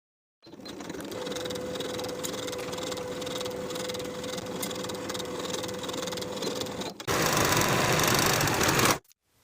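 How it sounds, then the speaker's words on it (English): A sewing machine runs steadily while sewing the side seams of a jumper dress, a continuous close mechanical hum with a faint tonal whine, shifting to a slightly louder, rougher run near the end before stopping. "Sew both side seams with 1/2 inch seam allowance"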